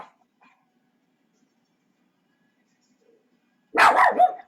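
A dog next door gives a short pair of barks near the end after a long near-silence, fairly clear and not far off.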